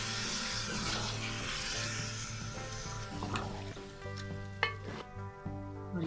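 Yogurt being mixed into chicken yakhni pulao in a pan: a soft, continuous sizzle with a few scraping and clinking strokes of a spoon against the pan near the end, close and quiet, with background music and no talking.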